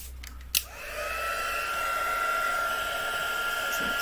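A heat tool blows a steady whooshing hum while melting embossing powder for a white-on-red crafting effect, starting after a soft click and running continuously, fairly quiet and with no talk.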